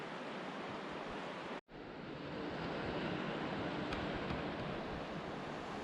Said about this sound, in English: The water is crashing up against the dark rocks and the fog is coming in from offshore.